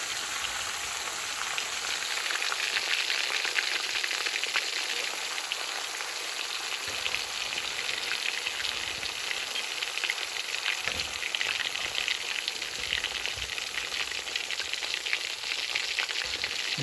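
Prawns fry in hot oil with a dense, continuous hiss and crackle, steady and fairly close throughout with no voices.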